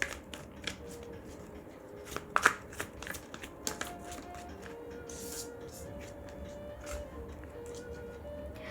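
Tarot cards are shuffled and drawn in a quiet room, with a run of soft, quick papery flicks and snaps, a few sharper slaps among them, and faint talking in the background.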